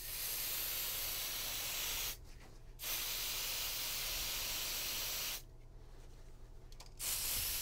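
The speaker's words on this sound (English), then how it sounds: "So I take my smoke detector and I blow canned smoke in it." Canned test smoke sprayed into a smoke detector on a Qolsys hardwire alarm system: a steady hissing spray in three bursts separated by two short pauses, close and fairly quiet, with no talk.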